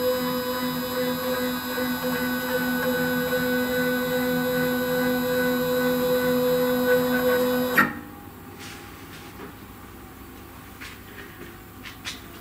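A GRBL-controlled CNC machine drives its X and Y axes with a steady tonal stepper-motor whine for about eight seconds, then stops abruptly, leaving faint room noise and a few small clicks.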